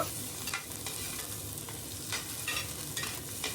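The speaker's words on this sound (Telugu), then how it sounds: "తర్వాత ఉల్లిపాయ ముక్కలు కూడా వేసేస్తున్నాను." Onion pieces and green chillies frying in hot oil for a chicken mandi, a steady close sizzle broken by several sharp stirring clatters against the pan, with no voices.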